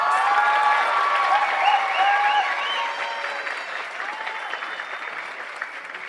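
A graduation audience applauds for the salutatorian and valedictorian, a dense wash of clapping with a few whistles and cheers that starts loud and slowly thins out.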